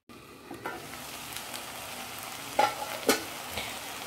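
Drumstick flower bhaji cooks in a covered pan over a low gas flame with a steady, gentle sizzle and a few faint clicks and pops.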